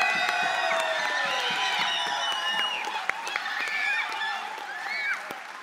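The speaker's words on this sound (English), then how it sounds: "give the rest a round of applause for this amazing match." An audience applauds and cheers at the grand final of a Trackmania esports tournament at Arctic Gaming Experience 2022, with sustained clapping and scattered whoops filling a large hall, lasting the whole stretch without fading.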